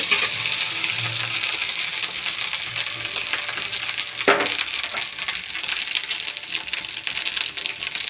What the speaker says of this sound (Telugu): రైస్ అయితే ఫ్రై అయిపోతుంది కదండి ఇంట్లో ఉప్పు కారం పసుపు అయితే వేసేసుకున్నామండి